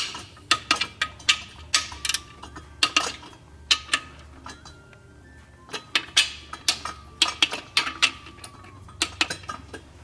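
A ratchet wrench works loose the engine bolts of a Suzuki Jimny in a series of sharp metallic clicking bursts, close and fairly loud, with brief pauses between strokes and no talking.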